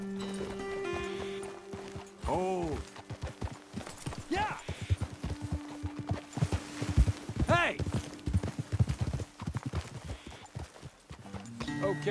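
Horse hooves clip-clop at a gallop in the video game Red Dead Redemption, a steady rhythmic beat under game music, with occasional whinnies and short shouted exclamations from characters.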